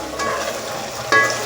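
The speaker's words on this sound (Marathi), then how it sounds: "आता हे मसाले चांगले परतून झाले आहेत" Red chilli powder, garam masala and turmeric fry in a pan for masala pulao and are stirred: a short burst of close, steady sizzling with a brief louder scrape near the end.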